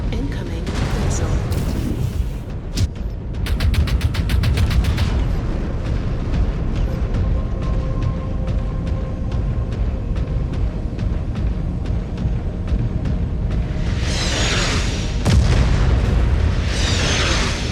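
Incoming missile strikes in MechWarrior 5: Clans, a run of heavy booms and rapid popping bursts early on, then a low rumbling lull and renewed blasts near the end, under faint game chatter.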